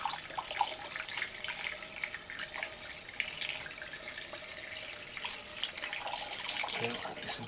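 Liquid pours steadily into a big glass jug during home winemaking from a kit, a continuous splashing, gurgling flow at moderate distance with no talking.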